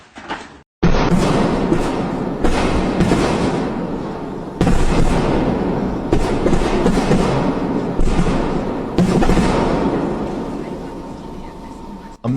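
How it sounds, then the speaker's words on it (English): A massive explosion erupts on a city street, loud booming blasts and rumbling shaking the area, with a sharp burst near the start and repeated heavy thuds after it. "A massive explosion occurred right on the street, shaking the entire area and bringing traffic to a complete standstill."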